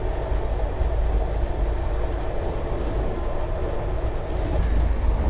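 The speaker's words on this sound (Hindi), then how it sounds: "फरीदाबाद में लेजेंडरी पश्चिम एक्सप्रेस का ओवरटेक भी हो गया" Inside the Mumbai Rajdhani Express, an air-conditioned Indian train overtaking the Paschim Express near Faridabad, a loud, steady rumbling roar of the moving train that continues without a break.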